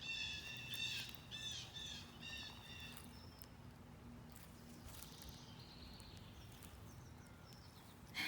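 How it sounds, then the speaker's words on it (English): Faint birds chirp and call in the distance over a steady outdoor hum, with a few sharper tweets scattered through. "You can see the bird chirping sound."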